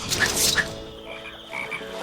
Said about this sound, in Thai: เฮ้ยดีเสียงกบอีก